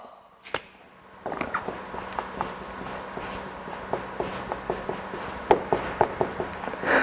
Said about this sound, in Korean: 한번 써볼게요.